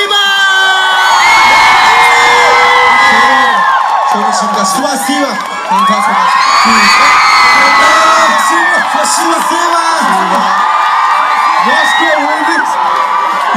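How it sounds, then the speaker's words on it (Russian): An excited crowd of BTS fans screams, whoops and cheers loudly and continuously. High shrieks layer over a dense roar of applause and shouting, with only a brief dip near the middle. "Друзья, аплодисменты BTS!"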